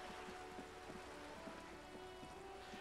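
Steady rain falls continuously in the Disco Elysium video game, a soft even hiss with faint tonal game sounds running beneath it and no speech.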